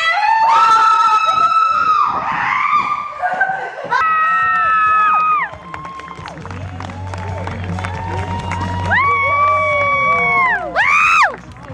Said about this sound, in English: So we're gonna go scream our willies out.